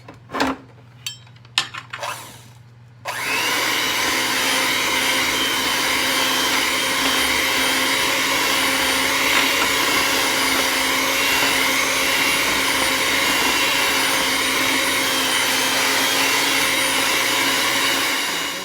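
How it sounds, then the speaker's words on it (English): An electric mixer beats oatmeal cream pie batter after an egg is added: a few knocks and clatters, then a loud, steady motor whir that runs on unbroken and close. "I'm going to make that in, beat that in with my mixer"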